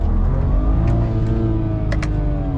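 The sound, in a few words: drag-tuned street car engine revving at 3,000 RPM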